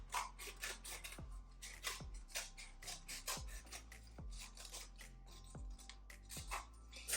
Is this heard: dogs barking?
no